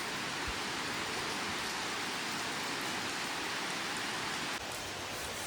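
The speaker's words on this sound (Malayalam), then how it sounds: "ഇന്ന് ശരിക്കും ഒരു റെയിനി ഡേ തന്നെയാണ് കേട്ടോ. നമ്മൾ മഴ ദിവസം തന്നെയാണ്" Steady rain falling outdoors on a rainy day, a dense, even hiss that stays constant throughout and drops slightly in level near the end, with no voices.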